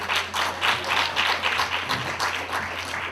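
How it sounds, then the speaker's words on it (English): Guests at a graduation celebration give a short round of applause for the DJ, a few seconds of moderately loud, fairly sparse clapping that swells and dips unevenly in a room. "So please give a round of applause for him."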